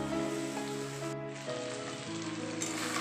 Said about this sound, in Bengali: কিছুক্ষণ আমি কষিয়ে নেব।